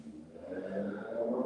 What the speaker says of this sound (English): Noisy car or what?